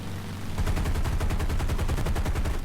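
Rapid machine gun bursts from a WWII fighter plane in War Thunder realistic battle, an F4F-4 or F8F-1, firing at a P-47 Thunderbolt: a steady, fast rhythmic rattle of close, loud rounds over an engine drone, lasting the whole moment.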